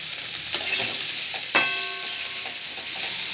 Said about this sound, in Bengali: এরপর আমি দিয়ে দেব কাটা চিচিঙ্গা আর আলুটা